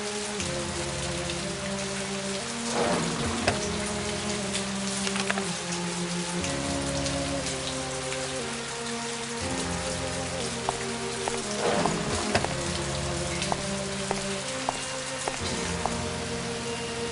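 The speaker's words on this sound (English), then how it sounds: "Just a drizzle. It's going to get much worse." Rain falls steadily in an Agatha Christie video game, a dense, continuous hiss of drops on surfaces with a soft low rumble, alone and unbroken.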